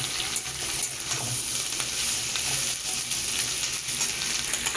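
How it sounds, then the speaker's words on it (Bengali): Morola fish frying with onion and potatoes in a pan gives a steady, close sizzle, with a scraping spatula stirring through it and no voices. "এই মাছ আর পেঁয়াজ আলু সব একসাথে একটু নাড়াচাড়া করে নিই"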